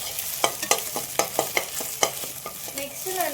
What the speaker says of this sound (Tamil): நெக்ஸ்ட்டு முட்டையை நல்லா நான் இப்படி வதக்கிக்கிறேன்.